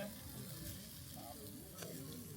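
Steaks sizzling as they cook outdoors on a back-country trip in West Virginia: a faint, steady hiss with light crackle and no break.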